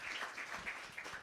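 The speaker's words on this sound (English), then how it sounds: "A round of applause for her," An audience at a launch event applauds with steady, dense clapping, heard at a moderate distance for a brief moment.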